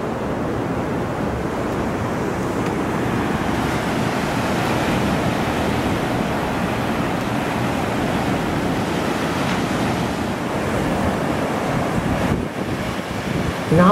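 Surf at China Beach, San Francisco, rolls in as a steady, loud, continuous wash of waves, with wind buffeting the microphone throughout.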